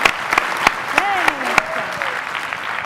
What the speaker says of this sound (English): Big round of applause again for our panelists